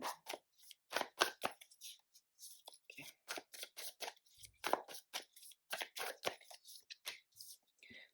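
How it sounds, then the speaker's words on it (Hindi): Tarot cards being drawn and shuffled, a string of crisp, papery snaps and flicks coming in quick irregular bursts close up, with short quiet gaps between them. "एक और कार्ड निकालते हैं, कुछ टैरो कार्ड्स आपके लिए।"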